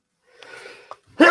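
A person sneezes once, sharply and close by, after a brief intake of breath; the burst at the end is loud and the clip holds no other talk.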